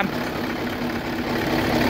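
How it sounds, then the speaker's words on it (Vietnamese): A Nissan twin-turbo V8 engine rated at 450 hp runs steadily at idle, a dense, loud continuous rumble with an even low hum and no breaks. "máy nổ rất là tuyệt vời ha không có khói trắng nè"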